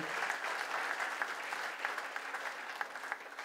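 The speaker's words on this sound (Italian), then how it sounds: "Un bel applauso per questa meravigliosa location." Steady audience applause fills a hotel venue during a fashion evening, a dense even wash of clapping from a sizable crowd with no voices over it.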